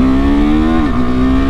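A KTM RC390 motorcycle pulls away from a left-turn start and accelerates hard, its single-cylinder engine droning loud and close with a steady buzzing tone that dips briefly as the rider shifts, then carries on.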